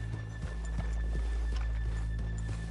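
Horse hooves clip-clopping in Red Dead Redemption 2, a steady walking rhythm of soft thuds under a continuous low ambient hum, moderately faint.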